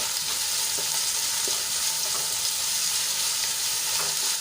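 A spoonful of ginger and chili paste sautés in a hot pan, giving a loud, steady frying sizzle with occasional soft stirring scrapes and no talking.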